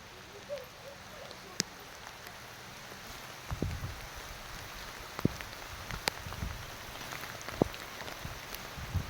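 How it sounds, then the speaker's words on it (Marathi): Steady rain patters down across the whole stretch during rice transplanting in a Konkan paddy field, with scattered louder drips and a few dull knocks and brief voices in the background. "पाऊस येतोय"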